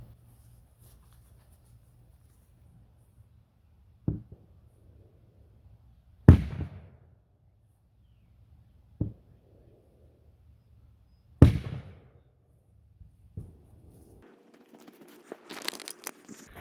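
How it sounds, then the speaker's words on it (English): A 3-pound mini sledge hammer strikes a steel target four times, each blow a sharp, loud clang with a short ring, spaced a few seconds apart against a quiet background. "I do have a 3-pound mini sledge. Let's see what this does."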